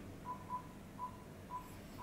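Phone dialing tones played through an Android car stereo head unit in a Nissan Juke, a handful of short evenly spaced beeps, quiet and clean over low background noise.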